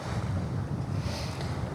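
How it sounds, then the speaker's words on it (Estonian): Steady wind buffets the microphone aboard a sailboat in light breeze off the Estonian coast, heading past Naissaar toward Kakumäe harbour, with a broad rushing wash of air and water throughout. "Tuul on olnud isegi oodatust väiksem."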